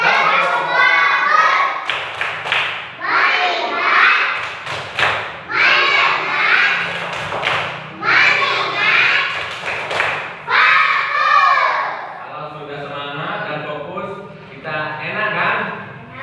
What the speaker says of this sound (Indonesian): kita tepuk fokus